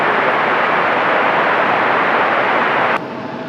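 A Delta Connection CRJ jet takes off at Raleigh-Durham airport with a loud, steady broadband roar that holds for about three seconds, then drops sharply to a quieter rumble.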